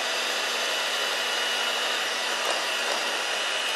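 An electric mixer beats egg yolks into cake batter with a constant high whirring drone, close and steady throughout, with no talk.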